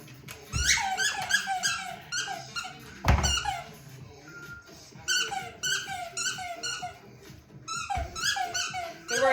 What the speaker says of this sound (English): I know all you probably hear is this dang squeaker. She loves her lamb chop.